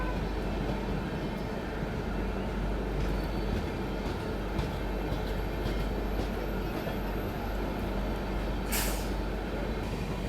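A Tejas Express train on the Konkan line from Mumbai to Goa pulls into Anjani station, giving a steady, loud rumble of wheels and carriages with a short burst of hissing air near the end.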